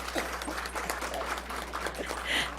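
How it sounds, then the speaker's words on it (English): An audience applauding the judges at a school district spelling bee, a moderate scattered patter of clapping hands that swells slightly at the end. "if we could please give our judges a little round of applause"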